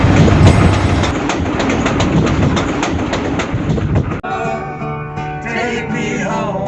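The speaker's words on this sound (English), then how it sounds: "Next, we will take you to hear some trains in the West." A train rolls past on a railroad in the western United States, loud and close, with a steady rumble and clattering wheels that give way to tonal squealing and ringing toward the end.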